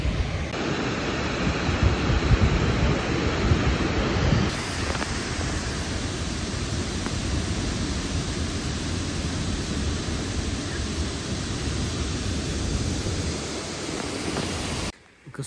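Gullfoss waterfall in Iceland roars as a dense, unbroken broadband rush, loud and constant throughout, with no voices.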